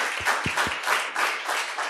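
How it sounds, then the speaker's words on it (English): An audience claps for a presenter after her pitch at an energy-tech startup competition, a short burst of moderate applause with a few distinct louder claps near the start. "Encourage her, clap for her."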